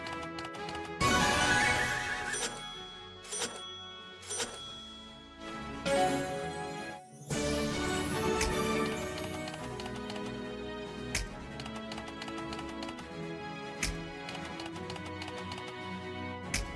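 A horse whinnies and hooves clatter in a fast gallop amid busy game music and sound effects from the online slot game Gold Horsey Winner.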